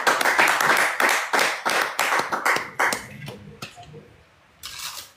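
A church congregation claps in acclamation of Jesus Christ. The claps are loud, sharp and fairly steady, thin out toward the end, and a final burst comes after a short pause.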